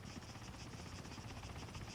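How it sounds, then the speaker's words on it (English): A helicopter in Arma 3 gives a steady, dense rotor drone that holds at an even level throughout, with no voices over it. "Helicopters."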